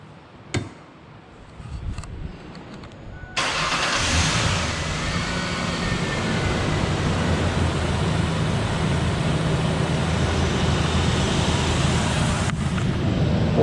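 A 2003 Ford Explorer engine cranks and catches, then settles into a steady loud running roar that continues unbroken, preceded by a few clicks and knocks, close up with no talking.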